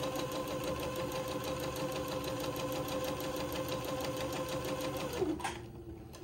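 Sewing machine stitching along a shirt hem, a steady fast mechanical whir with a rhythmic needle clatter running continuously up close, then slowing and stopping near the end.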